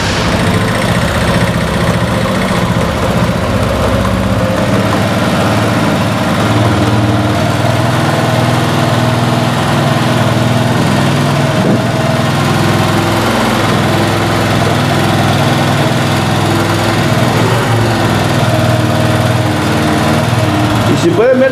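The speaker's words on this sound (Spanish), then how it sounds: "Lo voy a echar a andar la motocicleta y vamos a ver si al mover este mando se apaga" An Italika Z150 motorcycle engine runs steadily and loudly throughout, a continuous droning engine note with a fault that keeps it from passing 6000 rpm.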